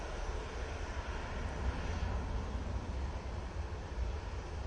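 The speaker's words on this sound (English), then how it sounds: "There's the Eurowings coming in from Dusseldorf." Eurowings Airbus A320neo airliner arriving from Dusseldorf, a continuous rumbling engine roar with wind buffeting, moderately loud and steady, no voices.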